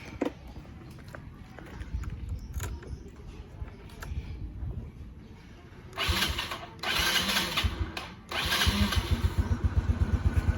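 A Yamaha Mio scooter engine being restored cranks and catches, sputtering into a rough, throbbing idle after a few attempts, heard close up.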